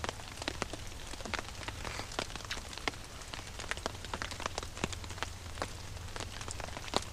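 Rain falls on a camping tent during a thunderstorm, a steady close patter of drops tapping the fabric with irregular louder plinks, continuous and alone.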